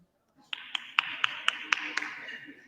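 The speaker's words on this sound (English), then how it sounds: "Matt Gaetz getting one person to applaud following a speech to nominate President Trump for Speaker of the House of Representatives." A lone person applauds after a speech nominating a candidate for Speaker of the House, eight or so slow, evenly spaced claps ringing sharply over a faint tonal hum in a large chamber.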